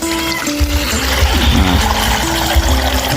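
Hot water poured out of a pot after boiling giant honeybee larvae, a steady close splashing and gurgling stream running for about three seconds with no talk over it.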